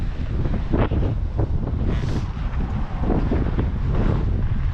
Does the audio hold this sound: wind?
yes